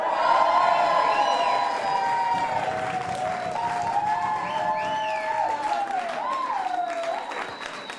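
Wedding guests cheer and whoop at a reception, a lively crowd roar with rising and falling shouts and whistles at moderate distance that fades slightly near the end.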